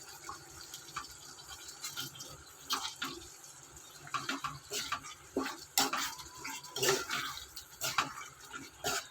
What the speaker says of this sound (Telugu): ఉడుకుతుందండి ఇప్పుడు